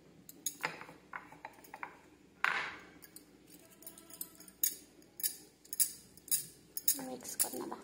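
Cake batter for a soft mango cake being mixed in a bowl with jelly added, giving repeated light clinks and scrapes of a utensil against the bowl in an uneven rhythm, close and fairly quiet.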